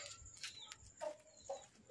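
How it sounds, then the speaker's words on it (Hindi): A black rooster gives a few soft, short clucks close by at night, spaced irregularly over a quiet background. "ये वाला मेरा काला वाला मुर्गा ये है"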